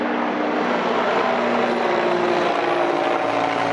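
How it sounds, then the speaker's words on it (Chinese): A helicopter flies overhead near a home by a roadside forest, its rotor drone steady and fairly loud, a continuous whirring hum with no break and no talking. "出门前十分钟就一直听到直升机"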